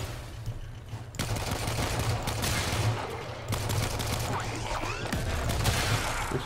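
Dense, rapid gunfire from the Warframe video game rattles almost nonstop for several seconds, with bursts of automatic shots layered over a steady low rumble and no talk.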